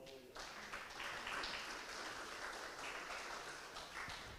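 Congregation applauding during an evangelical church service, a steady wash of clapping that rises quickly and holds at a moderate, slightly distant level for several seconds with no talk over it.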